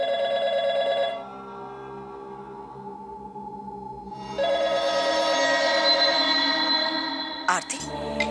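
A telephone rings at home during a Hindi family drama scene, bright repeated tonal ringing heard in bursts over a soft music bed, breaking off abruptly near the end.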